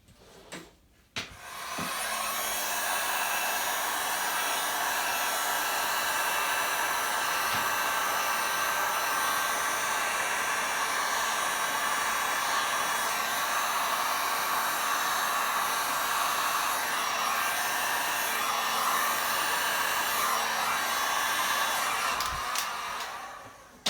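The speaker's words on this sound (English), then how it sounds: "I'm just going to give them a blast with the heat." Heat gun blowing over freshly poured pink resin coasters: a steady, loud, close whooshing roar that switches on after a second and runs unbroken for over twenty seconds, with no talk.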